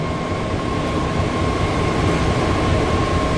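A Bay Area train slowing to a stop, heard from inside as a loud, steady rumble and hiss of wheels and motors that holds constant throughout, with no talking.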